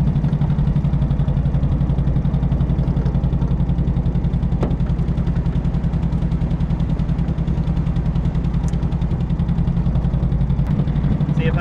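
An MG TD engine runs stuck at a steady 1500 RPM, a loud, constant, even-pulsed mid-pitched drone close by with no rise or fall, and a few faint clicks over the top.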